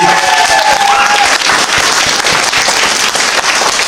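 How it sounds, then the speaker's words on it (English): Audience at a comic-con cosplay competition bursts into loud, dense applause with scattered claps and a few cheers, a close, continuous crowd roar filling the whole stretch. "And a round of applause for the judges as well."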